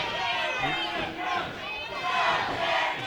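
A video game wrestling crowd roars behind a wrestler with a continuous, dense wall of cheering and shouting that swells and dips slightly, loud and sustained throughout.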